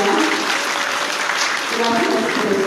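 Warm, continuous applause from students in a lecture hall at the start of a keynote conference, a dense wash of clapping close by with a murmur of voices under it.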